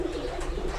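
A pigeon, the son of a Ferozpuri bird, coos softly while held in a hand, a brief low throaty burble close by with no talk over it.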